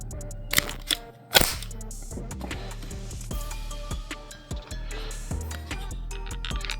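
A Sinden light gun fires in an arcade-style shooting game, with sharp cap-gun-like cracks and game effects over a busy musical soundtrack, a few bursts standing out in quick succession.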